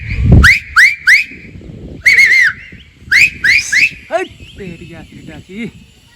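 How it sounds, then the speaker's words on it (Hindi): A series of short, sharp rising whistles in quick bursts, loud and close, followed by softer chirpy warbling notes at the end. "मारी सीटी"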